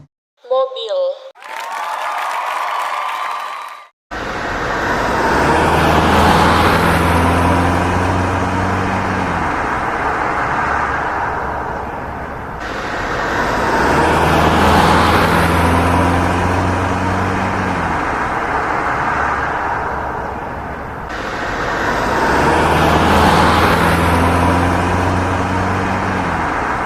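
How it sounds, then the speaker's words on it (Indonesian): A car drives past in road traffic, its engine and tyre noise swelling and fading in repeated loud passes after a brief clip of other sound at the start. "Mobil."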